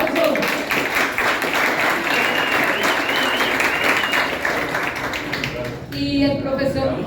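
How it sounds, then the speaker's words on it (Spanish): A crowd at a guarapo carnival event in Riosucio applauds a well-loved local teacher, loud continuous clapping with cheering voices, then a speaker's voice emerges as it dies down. "¡Un aplauso!"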